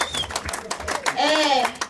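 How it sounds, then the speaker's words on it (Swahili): Brisk clapping comes in uneven bursts, and a high, wavering ululating cry rises and falls over it near the end. "Makofi makofi na vigelegele."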